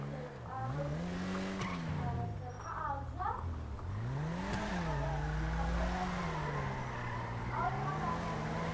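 A Toyota Supra drifts in GTA 5, engine note rising and falling through repeated revs while tires squeal in long wavering skids, with someone talking over it at times.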